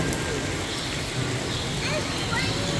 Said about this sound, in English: It's a thunderstorm.